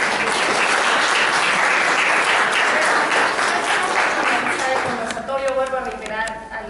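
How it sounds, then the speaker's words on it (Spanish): Audience applause at a public talk on reading, culture and literature, a loud sustained burst of clapping that fades toward the end as voices begin to murmur. "Un aplauso."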